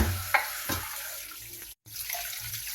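Tap water runs steadily into a sink for washing during outdoor vacation cooking of beef bulalo, with a soft, continuous splash and a few light knocks and clatters, then a brief cut-out before the flow resumes.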